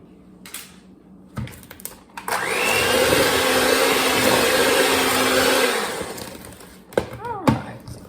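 Electric hand mixer beating brown sugar, granulated sugar and peanut butter in a big bowl for peanut butter oatmeal cookies, a steady loud whir running about four seconds, with clunks and handling noises before and after.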